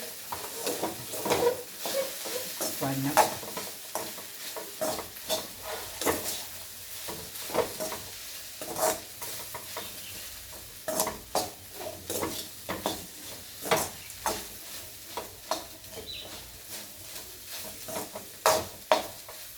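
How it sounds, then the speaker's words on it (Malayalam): Okra (lady's finger) frying in oil with salt, turmeric and chilli powder for a Kerala mezhukkupuratti, a steady sizzle broken by frequent scraping stirs of a spatula against the pan, close and moderately loud. "നന്നായിട്ട് മുരിഞ്ഞ് നല്ല ബ്ലാക്ക് കളറാവും എണ്ണയിൽ കിടന്ന്"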